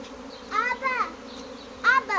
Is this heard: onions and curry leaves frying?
no